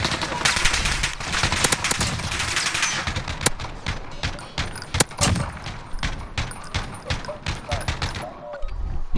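Sustained loud automatic gunfire in Call of Duty: Modern Warfare, dense rapid bursts and single cracks overlapping nearly continuously, close and harsh, with faint voices underneath.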